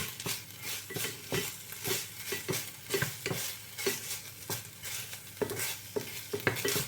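Pork stir-fries with garlic in a pan for Thai chili pork with oyster sauce, rhythmic spatula scrapes and knocks landing roughly every half second over a low sizzle, close up with no talking.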